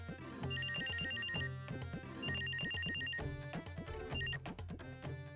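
A mobile phone ringtone plays alone, a bright repeating electronic melody in looping phrases with steady beats and high tonal notes, clear and continuous throughout.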